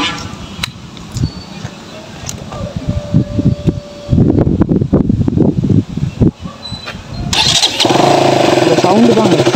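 A KTM RC 200 motorcycle engine cranks and catches, then settles into a loud, close, steady running note, with a voice speaking before it starts.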